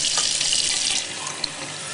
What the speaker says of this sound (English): I'm just going to fill this up with straight, ordinary tap water